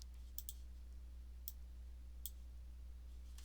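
Typing on a computer keyboard: three faint, sharp key clicks spaced about a second apart over a low steady hum, with no voices.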